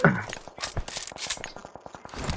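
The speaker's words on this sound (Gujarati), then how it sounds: "હવે હું M249 લઉં જો" An M249 machine gun fires in the BGMI battle royale video game, a fast string of rapid, evenly spaced shots in one sustained burst, heard close and loud.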